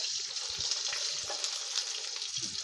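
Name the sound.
sizzling tempering poured into boiling gongura dal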